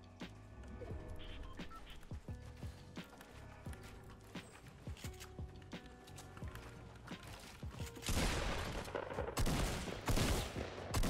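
Rapid gunfire in the Fortnite video game: many sharp shots crack out irregularly and close by, then a denser, louder barrage erupts near the end, with a voice faintly heard at times.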